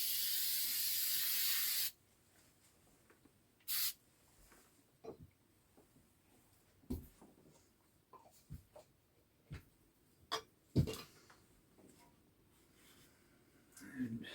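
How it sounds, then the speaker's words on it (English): A loud, steady hiss of spray adhesive coating wire runs for about two seconds, followed by a brief second spray burst and scattered soft knocks and handling noises. "we'll coat the wire with a little spray adhesive"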